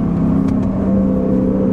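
A 2022 Lexus IS 500 F Sport Performance with spoiler and aftermarket exhaust drones loudly and steadily at close range on a hot lap around Eagles Canyon race track, a continuous deep engine hum with no talk over it.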